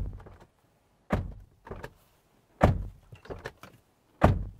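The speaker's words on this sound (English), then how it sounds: "And this is what the door sounds like." A 2024 Nissan Patrol Warrior V8 SUV door shut three times, each a solid thunk with a brief rattle after, spaced a second or so apart, close up with no talking.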